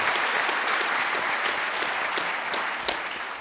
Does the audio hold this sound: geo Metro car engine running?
no